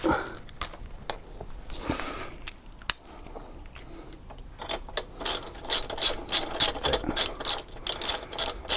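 A socket wrench ratchets on the chain adjuster bolt of a Suzuki GSX-S 125 motorbike during chain and sprocket replacement; close, quick metallic clicks and taps come in bursts, growing denser toward the end.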